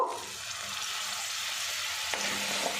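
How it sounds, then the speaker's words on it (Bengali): Spices with chicken curry masala, salt and a splash of water fry in oil while being stirred, a steady close sizzle running throughout with a faint scrape near the end. "মশলাগুলো ভালো করে কষিয়ে নেব যতক্ষণ না তেলটা আলাদা হয়ে যাচ্ছে"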